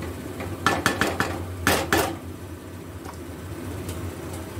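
Metal utensil scraping and clinking against a pan as a Bengali cabbage curry with fried lentil dumplings is stirred, a few quick clatters in a cluster and then two louder scrapes, over a steady low kitchen hum.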